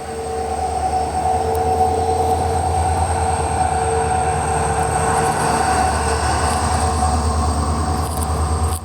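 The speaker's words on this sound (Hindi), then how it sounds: "तो ये रहा जो पीछे का पोर्शन है हमारे ट्रेन का" The 17420 Vasco da Gama Tirupati Express runs on the line via Dudhsagar, a loud, steady close-range rumble with rhythmic wheel clatter and a thin high squeal running throughout.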